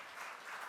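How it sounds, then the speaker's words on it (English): Applause from the audience at a business awards ceremony for outstanding women rises for an honoured guest, a brief, fairly faint patter of many hands. "Big round of applause for the very beautiful"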